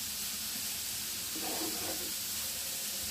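Vegetables for pan pies sauté in a frying pan over moderate heat, giving a steady, close hiss and sizzle that swells briefly in the middle, with no talking.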